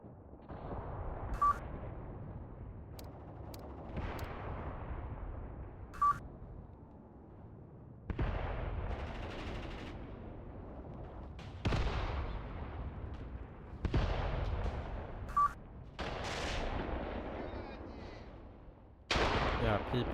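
Close-quarters infantry combat in Mius Front: sharp gunshots from PPSh submachine guns and heavier grenade bursts crack out at irregular intervals, loud and near, with brief quiet gaps between the blasts.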